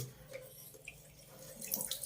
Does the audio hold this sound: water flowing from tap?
yes